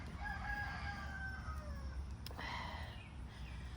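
A rooster crows loudly nearby, a long drawn-out call over steady low background rumble and outdoor noise.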